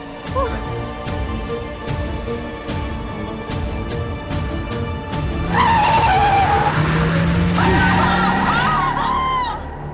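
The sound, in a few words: car being driven in the dark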